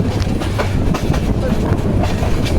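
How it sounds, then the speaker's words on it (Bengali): An intercity express train passes Gafargaon railway station, rumbling loudly and steadily, with a continuous broadband roar and faint rhythmic clatter of wheels on rails. "গফরগাঁও রেলওয়ে স্টেশনের দুই নং প্ল্যাটফর্ম থেকে ছেড়ে যাচ্ছে ঢাকা থেকে ছেড়ে আসা দেওয়ানগঞ্জ বাজার অভিমুখে আন্তনগর তিস্তা এক্সপ্রেস"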